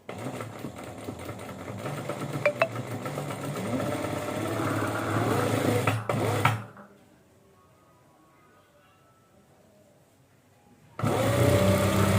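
Sewing machine stitching the seam of a sofa cushion cover, a loud continuous motor whir for about six seconds, then near silence before the machine starts up again near the end.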